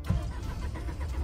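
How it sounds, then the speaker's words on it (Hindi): A Mahindra Bolero engine cranks and catches without the clutch pressed, a short close-up rumble of starting and settling into a low running note. "ये गाड़ी चालू हो गई बिना क्लच के"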